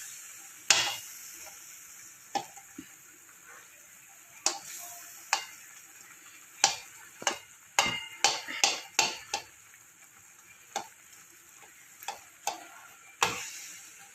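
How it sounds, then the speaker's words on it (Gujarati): A spoon mashes roasted brinjal bharta in a pan, making a scattered series of sharp taps and clinks against the metal, clustering quickly in the middle and then spacing out, over a faint steady background. "આનાથી આપણે આમ ભાંગીશું."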